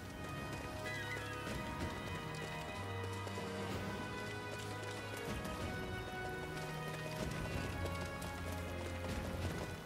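Horses trot in a video game, a busy clatter of hooves with whinnies mixed into a dense, continuous game soundscape that holds a steady level throughout.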